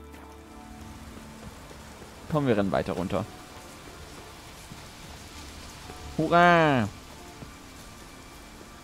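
Steady soft rainfall in The Witcher 3 on Skellige hisses evenly in the background, while someone speaks briefly twice over it.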